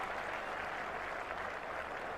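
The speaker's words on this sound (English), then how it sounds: "And a huge cheer around Old Trafford." Spectators at Old Trafford cricket ground keep up a broad, continuous cheer and applause during the 1997 England v Australia Test, a steady mid-level roar of many voices and hands without any speech on top.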